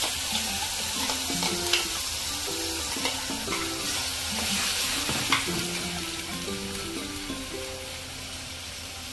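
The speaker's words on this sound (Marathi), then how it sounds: "तेलामध्ये मी मसाला छान परतून घेते." Ground masala fries in hot oil with asafoetida in a heated kadai, a steady close sizzle with light stirring scrapes; faint background music plays underneath.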